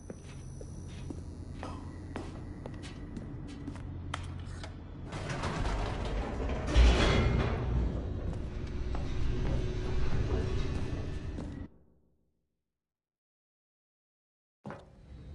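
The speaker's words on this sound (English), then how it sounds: "The elevator raced downward, plummeting towards an unknown fate." Elevator in The Stanley Parable video game descending with a steady mechanical rumble, creaks and rattling clanks, swelling to a loud jolt midway before cutting to silence, then a brief burst at the end.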